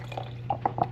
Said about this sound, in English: So I'm just gonna add water little by little to rehydrate the skins.